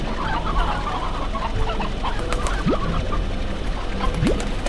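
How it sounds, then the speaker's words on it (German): Chickens clucking in the video game Slime Rancher, a steady stream of farmyard clucks and short calls over a constant ambient game backdrop, with no speech. "Ich höre Hühnchen."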